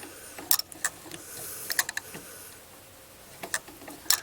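A Singer treadle sewing machine with a reciprocating bobbin shuttle runs quietly, giving soft irregular mechanical ticks and clacks over a low hum.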